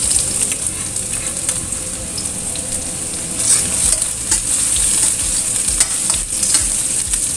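Shallots, ginger and garlic fry in hot oil while being stirred, a steady loud crackling sizzle with scraping strokes of the spatula throughout.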